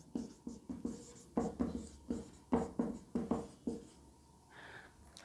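Chalk or marker strokes on a classroom board during a chemistry lecture, a series of short scratchy bursts in an irregular rhythm, close and fairly quiet, with a brief higher scrape near the end.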